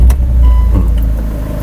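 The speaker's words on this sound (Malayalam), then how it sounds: "വണ്ടി സ്റ്റാർട്ട് ആയിട്ടുണ്ട്" A car engine runs loud and close just after being started for a first-time driver, a steady low rumble with a slight rise, no talking over it.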